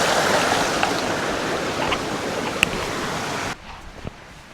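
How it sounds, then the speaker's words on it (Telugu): A flowing stream inside Lonar crater makes a loud, close, steady rush of water that cuts off abruptly near the end, leaving a quieter background with a faint knock. "ఇక్కడ వాటర్ సౌండ్,"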